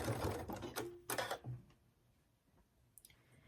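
A sewing machine stitches a quilted fabric hot pad in short close bursts of clattering whir, then falls quiet apart from faint clicks near the end.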